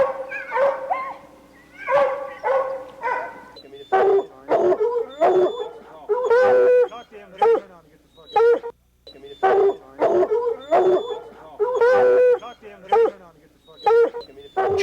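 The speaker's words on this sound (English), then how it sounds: "they're finally able to hear the dogs" Several hunting dogs bay and yelp in rapid, repeated bursts, their excited howling calls overlapping at close to moderate distance.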